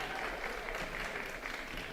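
Fans in a high school basketball gym applaud their team with continuous far-off clapping, a soft even roar that holds for the whole moment.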